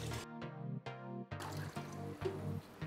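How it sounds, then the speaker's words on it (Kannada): Water is poured into a pot for mushroom biryani, giving quiet gurgling, trickling pulses in short bursts close to the microphone, with no voices. "1½ ಲೀಟ್ರ್ ಹಾಕಿದ್ದೀನಿ ನೀರು"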